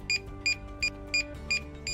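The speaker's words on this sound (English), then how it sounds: "The remote controller will start to beep after 2 seconds." A quadcopter drone's remote controller beeps repeatedly, six short electronic beeps at an even pace about every third of a second, clear and close.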